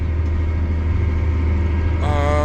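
A 375-horsepower tractor engine runs steadily during dirt work, a continuous low rumbling drone close by with no speech over it.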